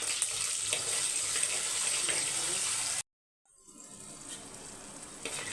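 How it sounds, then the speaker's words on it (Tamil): Water from cooked rice poured off and drained, a continuous gushing splash that breaks off abruptly, falls silent briefly, then returns as a softer trickling flow. "சாதம் வேறு வெந்துருச்சு நான் வடித்து விட்டுறேன்"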